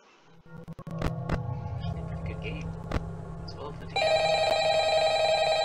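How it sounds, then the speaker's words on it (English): Telephone ringing inside the Roblox FNAF video game, a steady electronic ring tone that starts partway through and holds loud over a low game hum, following a few faint clicks. "It even has the phone call."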